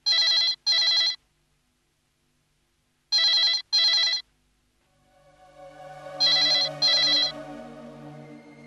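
Late at night a telephone rings three times, each ring a pair of loud electronic trills separated by silence, with a low musical drone rising under the last ring.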